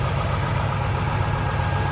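A rebuilt small-block Chevy 350 V8 with headers in a 1965 Chevrolet Chevelle Malibu idles steadily, a close, even low rumble with no talk.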